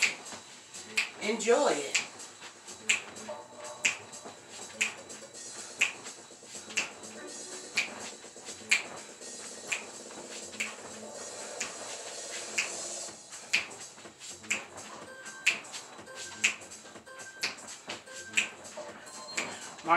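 Finger snaps keep a steady beat along with a gospel workout music mix, sharp regular clicks over the track while a person talks briefly.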